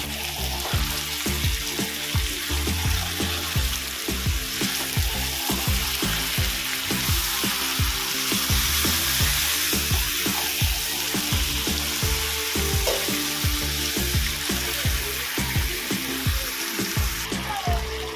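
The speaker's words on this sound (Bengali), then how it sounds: "ম্যারিনেট করা মাংস। এবার এটা ভালো করে কষিয়ে নেব।" Marinated chicken pieces for a Bengali chicken malai curry sauté in a pan, giving a loud, steady sizzle with faint stirring scrapes and no talking.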